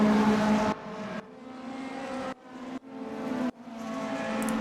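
Race cars, including the number 99 Audi, roaring past in close succession, with engine notes swelling and dropping off as each car shifts and passes nearby.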